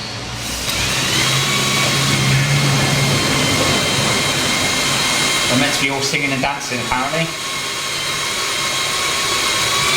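A drill runs continuously while drilling out snapped exhaust studs, its steady, loud mechanical drone filling the background as someone talks briefly over it.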